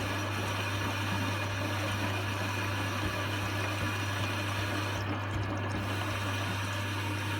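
A Hotpoint washing machine running its mix wash 15 cycle, giving a steady low electrical hum with continuous water churning and faint sloshing, close and even throughout.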